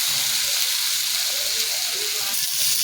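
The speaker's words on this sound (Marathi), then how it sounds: "चांगलं परतून घ्यायचं." Wet cashews and onion masala sauté in a pan, giving a steady, close hiss and sizzle with occasional soft stirring scrapes throughout.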